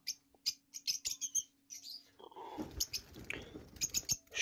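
Lutino Fischer's lovebirds, about five months old, chirp in repeated quick high bursts, then a louder tangle of overlapping calls and scuffling noise from the flock nearby.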